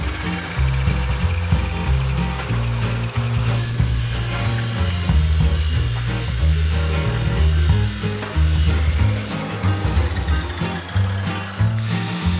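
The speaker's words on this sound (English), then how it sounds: "on this side we have different angles, so we will have to change the angle of the saw all the time" A power saw cuts wooden trim pieces at changing angles while waterproofing a Unimog expedition vehicle box, loud and close, with rough repeated cutting passes and rhythmic grinding bursts over a low motor drone.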